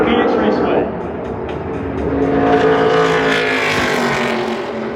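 A NASCAR Craftsman Series truck roars around Phoenix Raceway on a qualifying lap. The loud engine drone rises and swells as it passes close, with a commentator talking over it.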